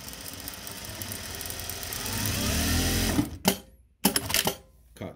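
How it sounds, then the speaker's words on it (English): A Juki DDL-8700-7 industrial sewing machine stitches at a steady, fast whir that rises slightly, then breaks into short stop-start bursts with brief silent gaps between them, all heard close by. "I start sewing right here."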